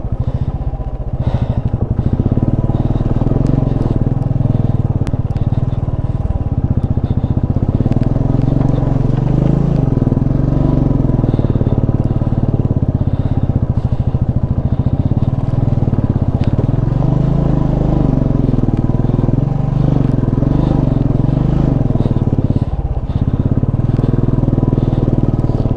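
Motorcycle riding over a rough high mountain pass at Chang La, a continuous loud engine drone with clattering jolts and wind buffeting throughout.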